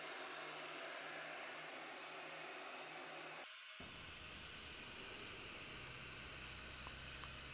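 A heat gun blows a steady, loud hiss onto the quarter panel of a collision-damaged GMC Yukon. It cuts out for a moment and then roars on again, with no talking.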